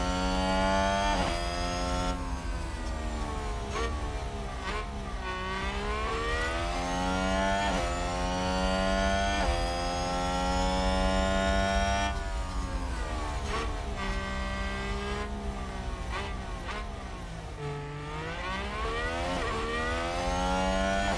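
F1 cars racing and overtaking in the F1 Manager 2022 video game, with a Williams car in the field: continuous high engine whine with layered, rising and falling pitches as several cars rev past, steady and loud throughout.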